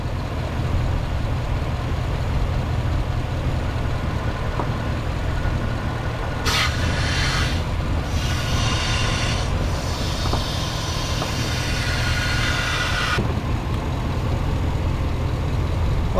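A 2009 Chevrolet Suburban with a freshly replaced power steering pump runs with air in the system as the wheel is turned back and forth, giving a steady low engine drone with rising hissy whine bursts midway, no talk.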